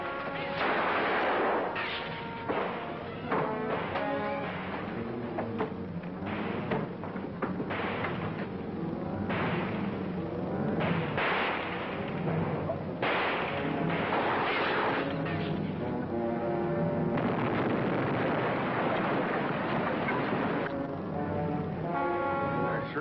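A bomb explosion in an old-time Coast Guard radio drama, rendered as loud, sustained crashing and rumbling sound effects with bell-like clangs, running throughout with bits of voices mixed in.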